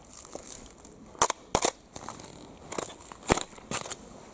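Boots crunch over a thin crust of seawater ice on a muddy shore, producing several sharp, irregular crunches. The sound is close and crisp, with quiet gaps between steps.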